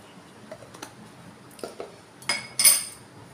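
A spoon clinks and scrapes against a bowl while malpua batter of ripe mango is mixed, with a few scattered taps that build to louder clatters near the end.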